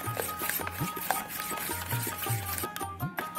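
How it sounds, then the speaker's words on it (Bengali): Yogurt malpua batter being whisked in a bowl, with fennel seeds and sugar mixed in: rapid rhythmic scraping and clinking strokes of a utensil against the bowl, close and moderately loud, with no talking. "ফেটিয়ে নেব।"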